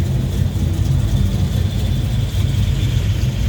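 The 383 V8 in a 1969 Plymouth Road Runner with a 3-inch Flowmaster exhaust and a Holley 850 carburetor runs at a steady, deep, thumping idle, close and continuous, with no speech.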